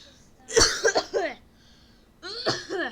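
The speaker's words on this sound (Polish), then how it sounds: "Zaraz wypluję płuca tym, z tym kaszlem." A person coughs close by in a few harsh bursts, falls quiet for a moment, then gives a short throat-clearing rasp, all in a quiet room.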